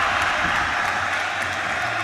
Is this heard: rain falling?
no